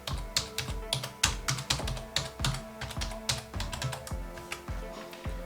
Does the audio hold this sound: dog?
no